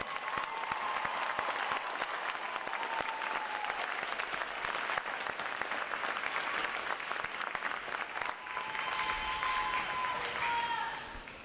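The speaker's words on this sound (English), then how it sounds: "How about a round of applause for that outstanding performance today?" Sustained applause from a large audience at a U.S. Navy recruit boot camp graduation, loud and continuous throughout, with scattered cheers and voices mixed into the dense clapping.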